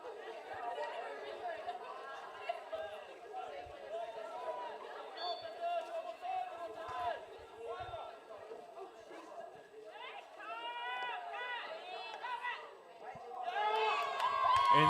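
Crowd at a boys' field hockey tournament final chatters and murmurs steadily, with excited voices and rising cheers near the end, under a commentator's talk.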